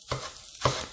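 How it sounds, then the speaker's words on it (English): Rice ramen noodles sizzle and crackle in a hot pan, with a brief stirring scrape partway through; close and moderately loud, no voices. "Sizzle, sizzle, sizzle."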